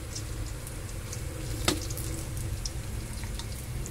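Onions frying in a pan for pork kare-kare give a steady, close sizzle with a broad hiss and a sharp spit or clink midway, continuous and moderately loud with no talking.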